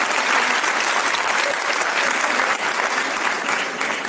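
A congregation at a Jain monk's chaturmas sermon in Agra breaks into loud, dense clapping, a continuous sustained roar of many hands close by with no break.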